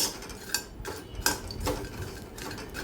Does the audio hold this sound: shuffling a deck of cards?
no